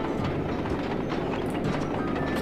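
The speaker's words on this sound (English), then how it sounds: "they give you a wee train ride and you can get a lift round" A train rolls along in the video game Sly 2, a steady rumble with repeated rhythmic clacking from the wheels and a few faint higher squeaks.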